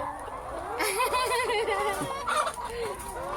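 Many chickens on a rainy, muddy farm in Chiang Mai, a flock of about two hundred birds, clucking and calling together at close range while people talk over them.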